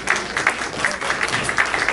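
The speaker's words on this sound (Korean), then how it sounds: "박수 부탁드리겠습니다" A crowd applauds steadily at a high school class's 30th anniversary reunion, many hands clapping together in a dense, lively wash of sound.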